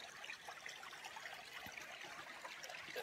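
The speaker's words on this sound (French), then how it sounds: "C'est la plus grande cascade de Belgique." Largest waterfall in Belgium, at the Reinhardstein castle site: a faint, steady rush of falling water, an even hiss with soft splashing and no talk.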